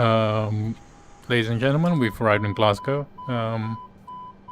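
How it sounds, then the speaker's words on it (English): In Microsoft Flight Simulator 2020, an airliner's door-open alarm gives short electronic beeps that sound intermittently beneath a cabin announcement, partly masked by the voice. "That's the alarm because the door's open."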